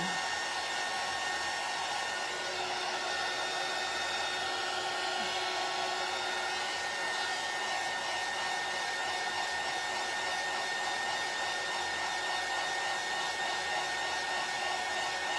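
A hair dryer blowing on a craft door hanger, a loud steady whooshing drone with a constant motor whine that runs unbroken throughout, close to the listener with no talking.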